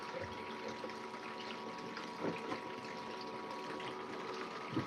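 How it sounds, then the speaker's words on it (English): Water pump running beside a gold prospecting sluice, a steady mechanical hum with liquid gushing and a few louder bumps, close and alone. "Make sure my pump was covered up good."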